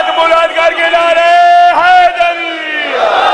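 A crowd at a religious gathering celebrating the birth anniversary of Imam Mehdi on Shab-e-Barat loudly chants slogans in unison with raised hands, a sustained, strongly voiced shout that dips briefly and rises again.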